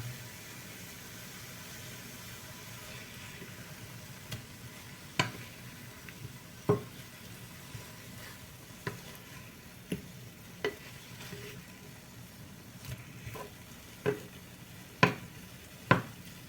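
Egg and eggplant fry in a pan under a faint, steady sizzle. A utensil scrapes and taps the pan in scattered, irregular strokes, each one sharp and close.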